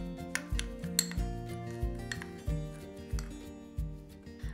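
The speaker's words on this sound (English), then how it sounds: "let's mix those all up in the bowl here" A salt, pepper, thyme and rosemary spice rub is stirred in a bowl, a utensil clinking and scraping against the sides in a steady repeating rhythm, quiet and close with no talk.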